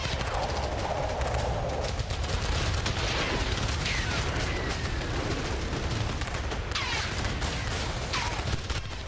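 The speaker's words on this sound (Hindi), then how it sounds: "फिर अचानक चारों तरफ से गोलियां और बम बरसने लगे।" Gunfire and explosions from a guerrilla attack on soldiers in Kiryat Shmona near the Lebanon border crackle and boom continuously, with dense rapid shots and scattered blasts under a noisy, distant-sounding wash.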